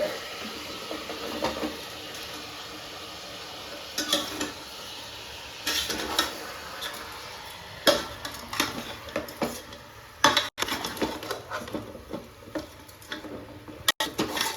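A spoon stirring and scraping food in a pot on a home stove, with irregular metallic clinks and knocks against the pan over a faint sizzle, some strikes sharp and close.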